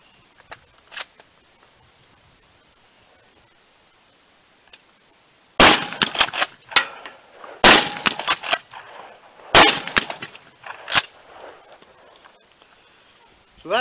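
A Benelli Super Nova Realtree Max 5 pump-action shotgun with 3.5-inch chambering is fired at a range. Three sharp, loud blasts are spaced about two seconds apart, with clattering and clanking between them after a quiet start.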